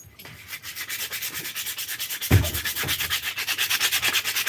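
A strip cut from an old, worn metal sanding belt is rubbed back and forth on a cobbler's hammer build, making close, rhythmic abrasive scratching strokes that speed up toward the end.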